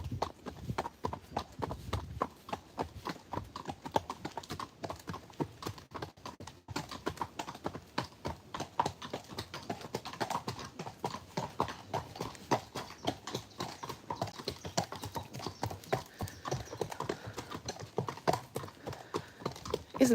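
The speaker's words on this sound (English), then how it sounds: "Nice little gentle clip-clop down the lanes." Steady, rhythmic clip-clop of black Friesian horses' hooves on a hard lane surface, continuing throughout, close by, with faint background noise.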